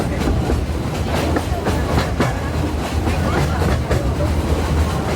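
A train near Iguazú, Argentina, rolling along the tracks with a steady rumble and repeated clickety-clack of wheels over rail joints, loud and close from inside the car.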